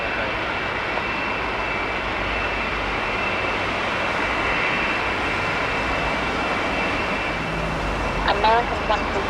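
A British Airways Boeing 747 taking off, heard as a loud, steady engine roar that fills the whole stretch with broad rumble, while a radio voice speaks over it.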